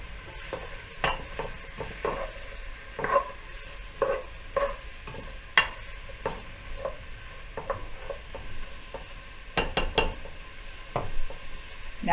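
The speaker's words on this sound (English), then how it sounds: "I have sauteed my sausage" Sausage sautéing in a pan, a soft continuous sizzle broken by repeated scraping and stirring clicks of a utensil against the pan, close and moderately quiet.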